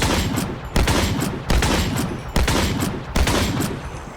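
Gunfire from a weapon in the Scorched Guns 2 Minecraft mod: about five loud, evenly spaced shots, each a sharp crack with a short decaying tail, with no voices.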